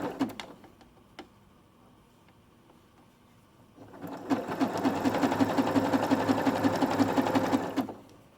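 A sewing machine runs a steady, rapid stitching burst for several seconds while bathroom cloths are sewn together, preceded by a few soft clicks and handling taps of fabric being positioned.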